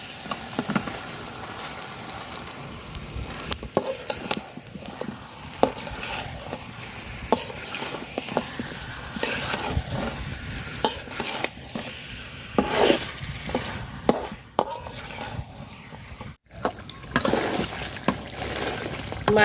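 Duck meat fries and is stirred in spiced oil in a pot, giving a steady, quiet sizzle with scraping stir strokes throughout.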